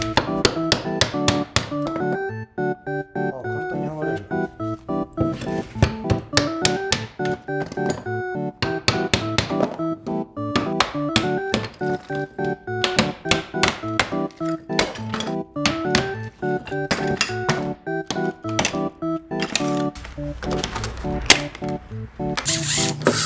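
Hammer blows striking tile and wall during demolition of an old kitchen, a long run of loud, close, rapid metallic-ringing impacts in an irregular rhythm with no talk.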